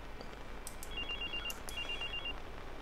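A hacked telephone rings in Watch Dogs, two short trilling ring bursts heard faintly over a steady low background hum.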